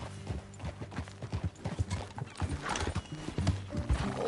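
Horse hooves clip-clop at a steady trot in a PS4 video game, close and rhythmic, with a horse whinnying partway through over the ongoing hoofbeats.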